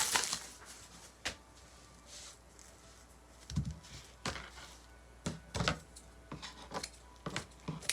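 Ribbon being cut by hand for a red, white and blue spiral wreath, quiet scattered snips and rustles, with irregular soft clicks spread over the stretch.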